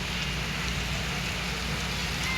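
Heavy rain pours over the seaside at Digha beach during a thunderstorm, a dense, steady hiss that fills the whole stretch without pause and with no voices.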